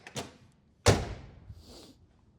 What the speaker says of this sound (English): Now we got that door shut